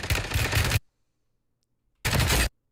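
Gunfire from the HMR rifle in the video game Warzone: two short loud bursts of rapid shots, each under a second, separated by about a second of silence.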